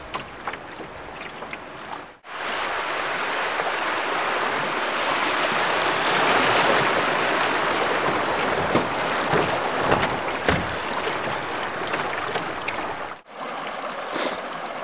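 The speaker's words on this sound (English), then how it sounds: "It's just a small bit of rapids here." Small river rapids in Barron Canyon, heard from a canoe, make a steady, loud broadband rush of water that fills most of the clip, with quieter stretches at the start and end and no talk.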